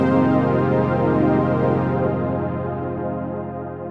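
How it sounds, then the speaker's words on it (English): Serum synth chains in Ableton Live playing through pitch-shifted ping-pong delays, a sustained harmonically rich tone bouncing between channels and slowly fading over about four seconds, with no talking. "I'm gonna set both of them to ping pong, so you get a nice bouncing back and forth between these two channels."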